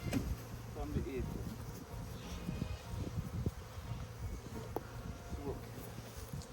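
Honey bees swarming around an opened hive during spring colony work, a continuous close buzzing hum with individual bees passing near, over faint outdoor background noise.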